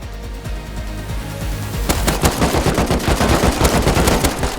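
Rapid automatic AK rifle fire in the survival game Rust during a raid, starting as scattered shots and building into dense, loud, continuous bursts close by.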